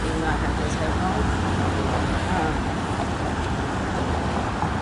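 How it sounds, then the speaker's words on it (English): Busy road traffic outside an apartment, with many passing cars forming a loud, continuous roar with no single vehicle standing out. "there's a lot of cars. I'm pretty sure it's pretty loud"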